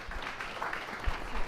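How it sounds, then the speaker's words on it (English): Warm applause at a book launch for the panelists, a brief, moderately loud patter of audience clapping with a few low thumps underneath. "Please give them another warm applause."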